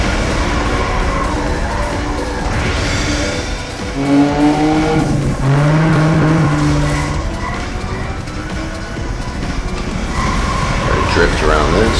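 In Cruis'n Blast on Nintendo Switch, a Corvette race car roars and drifts, its tires squealing in long stretches under a steady engine drone. Game music plays, and a voice talks over the action.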